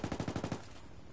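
A short burst of machine gun fire in the video game Ghost Recon: about six rapid, evenly spaced shots that cut off abruptly, fairly quiet.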